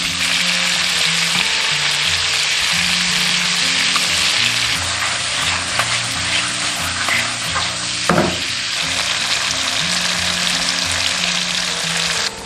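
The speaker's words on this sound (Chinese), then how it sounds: "这样把虾的表皮先煎一下" Shrimp pan-fry over medium-low heat in a wok, giving a loud, steady sizzle with bursts of spatter and occasional scraping stirs throughout.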